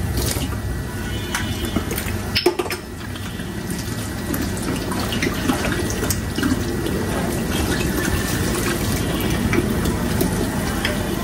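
Tap water runs steadily into a sink while something is rinsed under it, a close continuous splashing rush with a brief knock early on.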